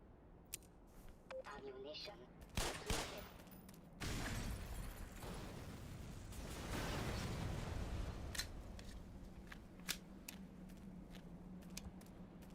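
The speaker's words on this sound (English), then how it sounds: "you throw a grenade and then blow up the barrels over there" Grenade and exploding barrels in the Black Mesa video game: a sharp blast near the third second, then a long rumbling explosion roar, followed by scattered clanks and thuds of falling debris.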